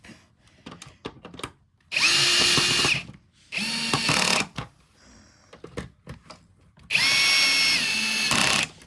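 A cordless drill at a low torque setting whirs in three bursts of a few seconds each while driving screws, separated by short pauses with small clicks and handling noises.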